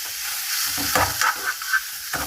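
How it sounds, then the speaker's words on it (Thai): Curry paste stir-fried in a little oil for a canned fish and glass noodle dish, a steady close sizzle broken by several scraping stirs of the spatula, with no voices. "ผัดเครื่องให้หอมเนาะจ้าเนาะผัดเครื่องแกงจ้า"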